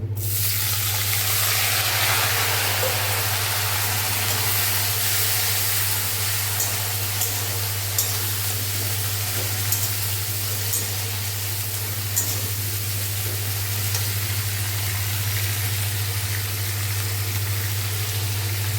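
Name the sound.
bitter gourd, onion and green chilli added to hot oil, frying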